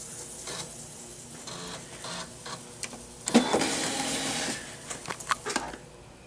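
A roughly 30-year-old Apple ImageWriter II dot matrix printer printing, with a buzzing, rasping print head in bursts and a louder sweep midway, close and alone.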